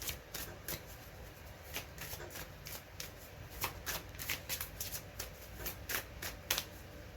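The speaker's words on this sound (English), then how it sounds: "I'm gonna shuffle and get some advice from the ancient wisdom." Tarot cards are shuffled by hand in a quick run of crisp riffling and flicking bursts that repeat close and clear for several seconds, with nobody speaking.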